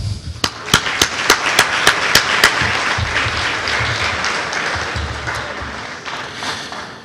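Applause at a council meeting: sharp, evenly spaced claps open a steady burst of crowd clapping that holds and slowly tapers off.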